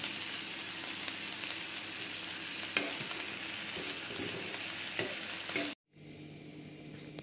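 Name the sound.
roasted eggplant mash cooking in a pan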